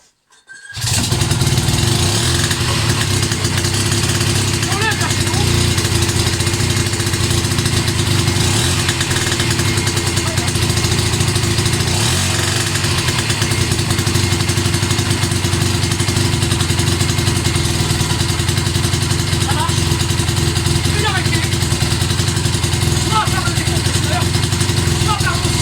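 A 1937 Peugeot BMA P51 moped engine catches after a pedal start and runs steadily up close, a continuous buzzing single-cylinder drone holding an even pace for about twenty-five seconds.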